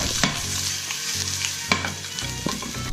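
Onion, chilies and garlic cloves fry in a hot pan, a loud, close sizzle broken by sharp scraping and clacking stirs and a low hum underneath.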